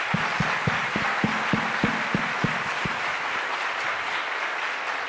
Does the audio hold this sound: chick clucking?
no